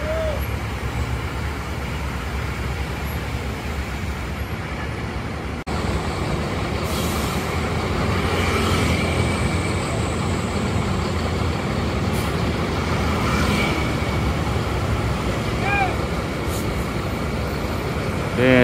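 An Agramas intercity bus pulls away from a line of parked buses on the Ponorogo route, its engine giving a steady, moderately loud rumble with brief squeals. Voices talk nearby throughout.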